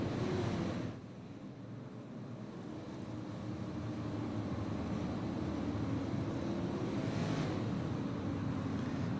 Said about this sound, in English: Hopefully you guys can hear those cars roar now